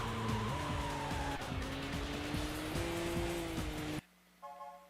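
A throaty four-cylinder car engine in the racing game Sega GT 2002 revs steadily and climbs through several gear shifts, loud and continuous, with tire noise, before cutting to a much quieter idle hum.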